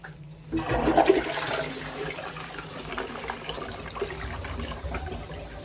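A Japanese toilet washes and flushes, a loud rushing surge of water at the start that settles into a running, trickling refill, heard close with no talk.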